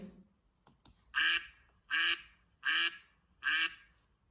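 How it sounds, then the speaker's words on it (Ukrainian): A duck quacks four times in a steady, evenly spaced series, loud and close, with no talking. "Качка крякає."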